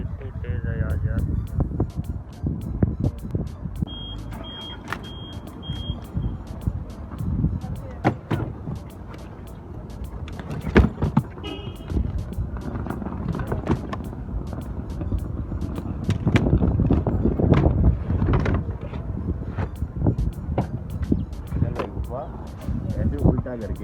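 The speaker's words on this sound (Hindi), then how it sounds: "ये आपको आइडिया हो जाएगा हवा कितनी तेज़ चल रही है, कितनी शदीद हवा है" Strong, cold wind blowing outdoors, heard as buffeting gusts and rumbling microphone wind noise under someone speaking throughout.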